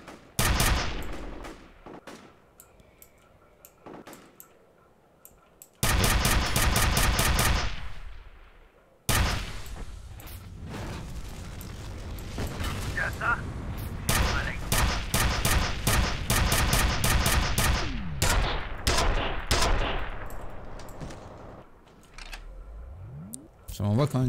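Gunfire in the shooter F.E.A.R. Extraction Point: sharp bursts of rapid shots and sustained automatic fire in long loud stretches, separated by quieter gaps with scattered single cracks.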